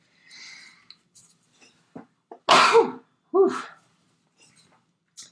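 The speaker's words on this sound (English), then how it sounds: "Oh, I have to sneeze." A sharp, close sneeze bursts out after some quiet breaths and small noises, followed by a second shorter sneeze-like exhale.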